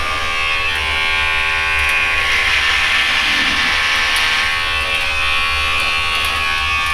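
A Remington HC4250 electric shaver runs steadily and close up as its head passes over hair, giving a continuous high buzz with no pauses across the whole stretch.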